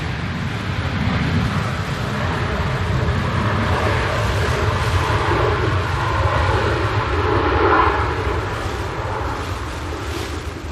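Airliner thrust reversers roaring during a windy landing at Manchester Airport: a steady, loud broadband rumble with wind noise that swells slightly before easing, no voices over it.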